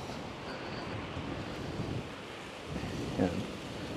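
Gentle ocean waves wash along a resort beachfront in Palawan, a soft continuous surf mixed with wind noise on the microphone and a faint swell near the end.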